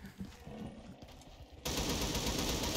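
Gunfire from a weapon in Black Ops 3 Zombies on the Nightmare map: a rattle of shots that jumps to a loud, dense, continuous burst of automatic fire partway through, with no talking.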